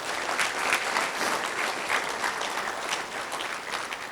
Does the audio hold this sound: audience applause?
yes